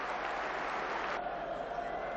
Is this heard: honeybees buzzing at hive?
no